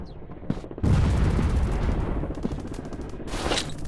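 Gunfire rattles in a first-person counter-terrorist shooting video game, with dense rapid bursts and heavy booming shots following a few sharp single cracks, loud and continuous.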